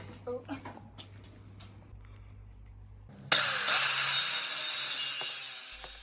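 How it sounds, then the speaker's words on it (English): A circular saw, set to half depth, bites into wooden garden-wall battens for relief cuts, a sudden loud whining cut starting partway through after quieter handling knocks and a low hum. "I did this by setting the depth of the circular saw to about half of the wood, and then making a load of relief cuts"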